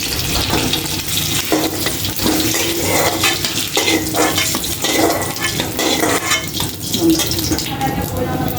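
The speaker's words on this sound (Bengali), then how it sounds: "কাঁচামরিচগুলো ভেজে দেখে নেব আমি" Green chilies frying in oil in a pan while being stirred, a continuous crackling sizzle broken by uneven scraping and stirring bursts, close and fairly loud throughout.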